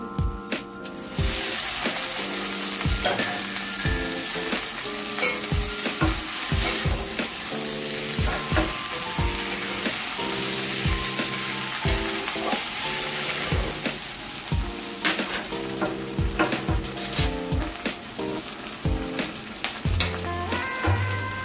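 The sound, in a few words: fried okra stirred into sizzling curry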